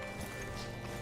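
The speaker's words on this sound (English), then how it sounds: "Hitch your horse up here." Horse hooves clip-clopping in the video game Red Dead Redemption 2, a steady run of hoofbeats over a continuous ambient bed with no talk.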